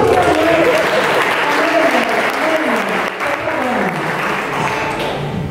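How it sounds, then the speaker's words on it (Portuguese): An audience at a Catholic talk on chastity breaks into loud, sustained applause, dense clapping mixed with crowd noise and voices filling the hall for several seconds. "Aplauda de novo, gente."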